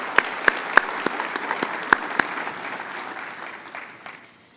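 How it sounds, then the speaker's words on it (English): An audience at a county development corporation's annual meeting applauds: a few sharp, distinct claps stand out early over a bed of steady clapping that gradually thins and fades away toward the end. "if we could give them a little round of applause for their time"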